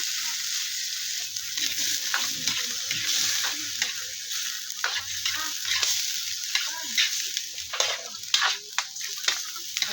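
Onions sizzle and fry steadily in a hot pan while being sautéed for ginisang upo, with scattered stirring clicks and scrapes throughout, close and moderately loud.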